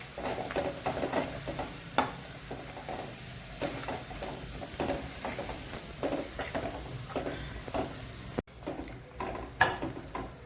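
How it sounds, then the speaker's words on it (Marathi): Ground masala paste sautéed in oil for a traditional village-style Bhogi vegetable dish, stirred with a steady soft sizzle and repeated scraping strokes of a spoon, close and alone with no talk. "चांगलं वाटण आपण परतून घेणार आहे."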